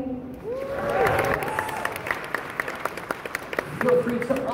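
An audience at MapleStory Fest applauds in a steady patter of clapping with some cheering, while voices talk over it throughout.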